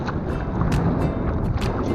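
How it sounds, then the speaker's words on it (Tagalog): Strong northeast monsoon wind buffeting the microphone on a fishing boat at sea in loud, continuous rumbling gusts, with water and boat noise beneath. "Lakas ang hangin."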